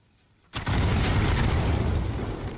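A C4 explosive detonates in a video game: a sudden loud blast after half a second of near silence, followed by a sustained roaring rumble that stays heavy and close until the end.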